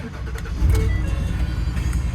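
A Ford F-250 pickup truck engine cranks and catches, settling into a low, steady rumble close by.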